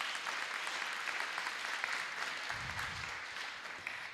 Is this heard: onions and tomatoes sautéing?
no